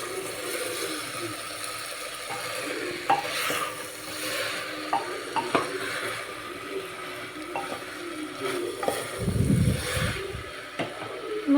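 Pav bhaji vegetables sizzle in a pan while being stirred, a steady crackling hiss with occasional scraping clinks of the spoon and a louder bubbling burst near the end, no voices.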